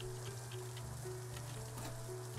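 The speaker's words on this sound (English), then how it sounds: "It is raining." Rain patters softly and steadily in the farming and town-building video game Littlewood, a faint, even hiss with scattered drops, accompanied by a low sustained musical hum.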